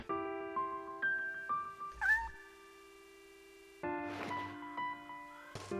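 Cat meowing in the Shenmue video game, several close, clear, plaintive meows in quick succession, then a pause and two more cries, with nothing else underneath.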